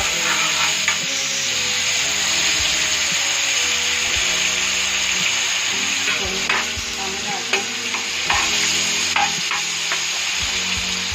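Steady loud sizzling of garlic and ginger frying in a hot pan for karahi, with occasional stirring scrapes and clinks throughout.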